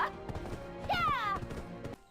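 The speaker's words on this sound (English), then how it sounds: "I tend to take a horse out and ride it back when catching." Horse ridden in the online game Black Desert Online, with rhythmic hoof clip-clop, a whinny-like tonal call midway and steady game ambience throughout.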